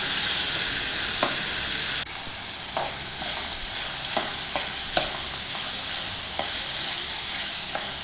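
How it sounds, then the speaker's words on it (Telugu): Salted food frying in a pan for chicken biryani while it is stirred: a steady, close, broadband sizzle broken by irregular scraping spoon strokes, with no voices. "ఇలా కలుపుతూ ఫ్రై చేసుకోవాలి"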